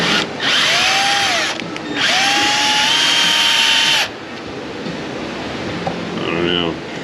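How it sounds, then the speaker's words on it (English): A power drill bores into the catalytic converter of a 2007 GMC Sierra 5.3, whining loudly in two long bursts separated by a brief pause, then stopping, with a person speaking near the end. "Begin drilling now."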